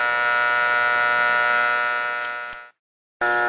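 An electric motor driven by a resonant LC circuit and powering an inductive load hums with a steady, harmonic-rich buzz that fades out, stops briefly, then snaps back on abruptly.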